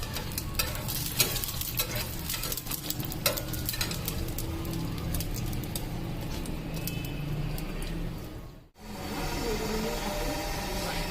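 Lachha paratha fries in ghee on a pan with steady, close sizzling and crackle, broken by scraping stir sounds and a brief drop to near silence before the frying resumes.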